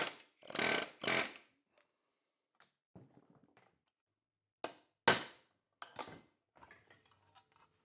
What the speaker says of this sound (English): If I put this on my vise here and hit it with an air hammer, I think that will tighten that up